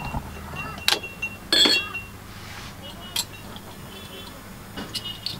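Glass clinks and a metallic snap ring out as a bottle of Fanta is uncapped, a few sharp bright hits spaced over several seconds against a faint background hum.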